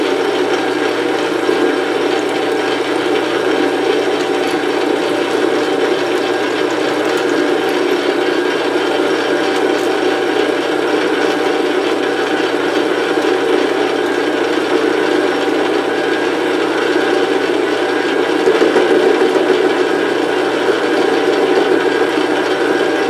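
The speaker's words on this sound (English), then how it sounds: "Okay, so now we've got our grade 8 bolt turned down to where it's perfectly round" A grade 8 bolt being turned down round on a metal lathe: a steady mechanical hum and whir from the running machine with a faint tonal whine, continuous and even throughout, with no speech.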